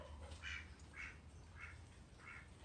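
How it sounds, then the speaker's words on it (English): Ducks at a zoo's agricultural area quack four times at a steady, evenly spaced rhythm, moderately distant and soft over a low background rumble. "We've got many, many ducks over here."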